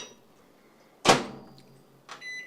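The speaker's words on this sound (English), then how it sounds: "And here goes the rice into the microwave" A microwave oven with rice inside, heard as a sharp door slam followed by a quieter click and a brief beep, close and alone.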